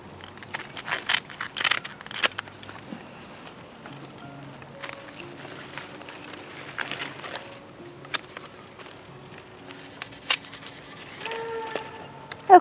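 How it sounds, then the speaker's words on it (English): Iris leaves are cut down in a garden, with a few scattered crisp snips and rustles, quiet and close, alongside faint birdsong and soft background sounds. "I'm just going to cut these down."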